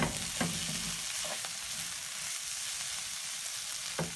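Filling for savory crepes frying in a pan, a steady close sizzle running throughout with a few brief stirring knocks and scrapes, no voices.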